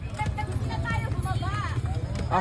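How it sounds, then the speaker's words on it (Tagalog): Horses clip-clop along the street as they pull decorated kalesa carriages in a town parade, the hoofbeats steady under a narrator's talking and crowd noise. "pinanood muna namin ang parada ng mga nagagandahang kalesa"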